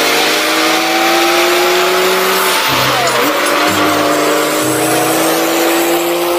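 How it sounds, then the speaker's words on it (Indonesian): A tow truck carrying vehicles rolls past nearby with a loud, sustained engine drone, sliding tonal whines and tire noise over steady road roar. "ada mobil truk towing membawa kendaraan"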